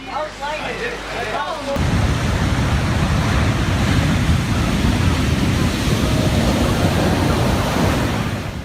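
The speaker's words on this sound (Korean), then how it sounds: "언제든 거대한 파도가 갑자기 밀려올지 모르기 때문입니다" Large waves crash in a stormy sea, a loud, continuous broadband roar of surf and wind that starts abruptly after a brief quieter opening with a faint voice.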